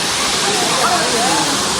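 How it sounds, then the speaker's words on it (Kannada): A hidden waterfall in Karnataka, running with low water, makes a loud, continuous hiss of rushing and splashing water, close to the listener and unbroken for the whole stretch. "ಸೊ ಗೈಸ್, ಇದೆ ಫಾಲ್ಸು"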